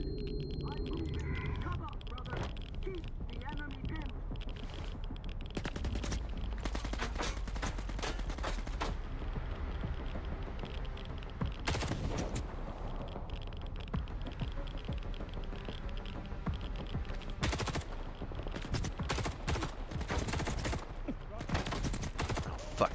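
Gunfire in the shooter game S.T.A.L.K.E.R. 2: Heart of Chornobyl, with repeated sharp shots in scattered bursts over steady game ambience and someone talking throughout.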